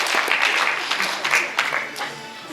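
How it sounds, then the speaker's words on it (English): Short burst of audience applause at a high school post-prom event, a dense patter of many hands clapping at steady loudness that tapers slightly over a couple of seconds. "Give them all a big round of applause."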